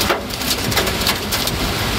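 A torrential guerrilla rainstorm with hail lashes a car driving through Saitama from Hanyu toward Gyoda. It comes through as a loud, dense, continuous roar of pounding drops with no break.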